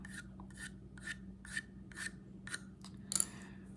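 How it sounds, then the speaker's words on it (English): A leather strop rubbed in rhythmic strokes across sandpaper to flatten it, about eight short, close scratchy rasps evenly spaced over a low steady hum, with no talking. "And then you continue to work through the sandpaper until all of the pencil lines are gone."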